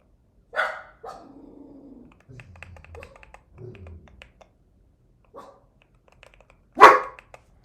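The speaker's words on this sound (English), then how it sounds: "Can you guys stop barking?" Dog barks burst out at the start and end, with a loud sharp bark near the close; quieter sounds and faint clicking come between them, and no one speaks.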